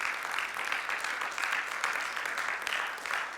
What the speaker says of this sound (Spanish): Ahora, dale el aplauso de alabanza al Señor